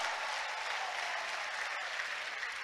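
A church congregation at an ADEPR gathering breaks into sustained applause, a dense, even wash of many hands clapping together throughout.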